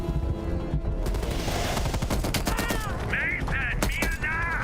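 Rapid, dense gunfire in the Call of Duty: Black Ops Cold War shooter, with loud bursts of automatic fire, some single cracks, and sharp electronic beeps near the end.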